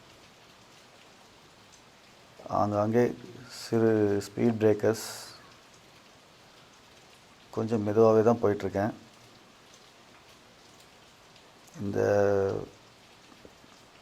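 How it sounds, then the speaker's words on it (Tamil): Steady rain hisses continuously in hill country, a broad even wash of falling drops, while someone speaks in several short bursts over it. "மலைகள் தொடர்ந்து மழை பெஞ்சிட்டே தான் இருக்குது"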